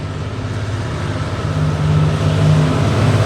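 A heavy diesel engine rumbles steadily and grows louder as a locomotive with a 1,320-horsepower Cummins KT38L engine approaches and passes close by, with no voices.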